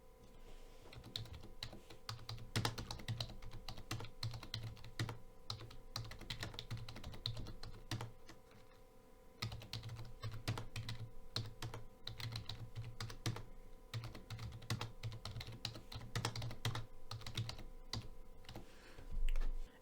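Rapid, continuous clicking of a computer keyboard while a commit message is typed, steady close keystrokes with short pauses and no talk.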